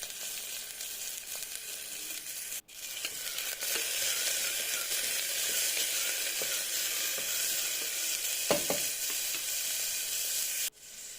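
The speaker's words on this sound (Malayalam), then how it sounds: "ഈ വലിയ ഉള്ളി ഒന്ന് സോട്ട് ചെയ്തെടുക്കാം." Chopped large onion sautéing in a pan for vegetable kurma gives a steady, fairly loud sizzle that swells after a brief dip near the start, with a couple of faint clicks from stirring.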